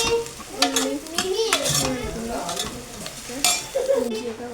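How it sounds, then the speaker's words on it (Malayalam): Onion and ginger sauté in a pan for chicken curry while a spoon stirs and scrapes against the metal in repeated strokes over a soft sizzle, with a voice talking in the background. "ഇഞ്ചിയൊക്കെ വഴറ്റി വെക്കുന്നുണ്ട്"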